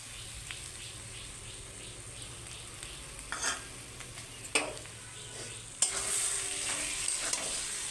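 Hilsa fish head and taro leaves fry in hot oil with a steady background sizzle, broken by a few louder stirring scrapes and spatters toward the end.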